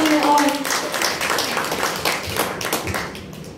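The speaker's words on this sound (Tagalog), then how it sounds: "Palakpak po para sa Panginoon." Applause from a congregation during a church prayer-and-fasting service, a short burst of clapping that fades over a few seconds while a voice carries on over it.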